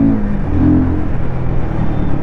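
Royal Enfield Guerrilla 450 motorcycle engine revving hard toward 8000 RPM, a loud, steady close-up roar with a brief rise in pitch early on and no talk over it.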